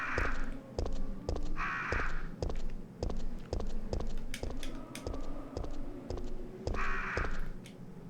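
Crows in the Resident Evil 3 video game caw in repeated harsh calls over a steady rhythmic ticking and clicking, fairly quiet and with no talking.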